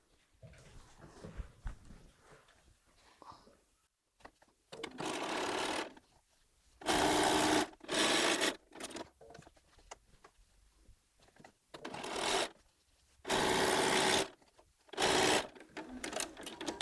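A sewing machine runs in several short bursts, joining the long sides of a quilt, with quiet pauses and faint handling noises between each loud, even stitching run.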